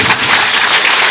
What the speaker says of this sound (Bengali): সবার জন্য হাততালি হোক